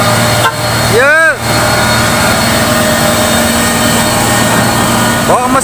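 FAW JH6 and UD Quester trucks grind up a steep hill hauling loads, a loud continuous engine drone with steady low hum, broken by sweeping whooshes and a couple of horn-like toots as vehicles pass.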